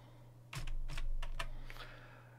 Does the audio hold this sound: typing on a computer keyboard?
yes